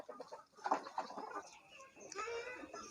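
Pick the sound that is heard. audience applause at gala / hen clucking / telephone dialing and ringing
hen clucking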